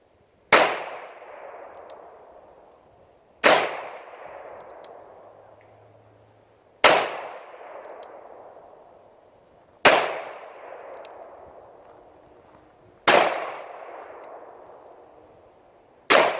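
Armscor M200 revolver fired at steel targets: six loud, sharp reports at a steady pace roughly three seconds apart, each with a ringing metallic clang and a long decaying tail, no voices.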